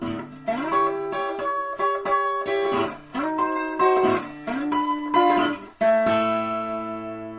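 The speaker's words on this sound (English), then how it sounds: "at the end of the stroke, just giving a little bend on all 3 strings" Guitar chords strummed repeatedly in a steady pattern, each stroke ending with a slight wavering bend on three strings, ringing clearly with no voices.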